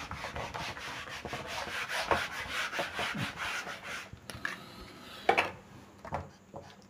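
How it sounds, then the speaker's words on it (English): A writing board is erased during a chemistry lecture, a steady scrubbing rub that goes back and forth for several seconds and then trails into a few scattered scrapes and taps, close and fairly quiet. "that is why I rubbed the board and I am writing it again"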